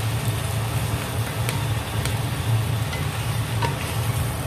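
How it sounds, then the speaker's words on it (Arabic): Minced meat and onion frying in a pan, a steady low sizzle with stirring scrapes running throughout at moderate level, no voices. "رح قليها منيح مع البصل"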